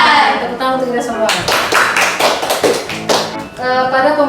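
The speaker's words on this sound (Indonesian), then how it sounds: "Tepuk tangan untuk kita semua" A classroom of students at a vocational school claps in unison. There are a few short clap bursts, then a dense round of rhythmic clapping near the mic that ends in a final burst. Voices are heard at the start and at the end.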